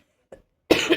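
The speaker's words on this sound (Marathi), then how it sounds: "जास्त बोलल्यानंतर मला येतोय खोकला" A single sharp cough from someone feeling unwell, close and loud, preceded by a faint short throat sound; no talking.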